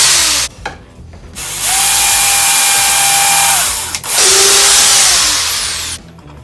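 Power drill boring hinge holes in wood for a bluebird house, loud close whine in two long bursts with brief stops and restarts between.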